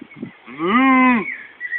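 A person imitates a cow's moo with their voice: a single drawn-out, loud, close lowing call lasting under a second, with short quiet sounds before and after.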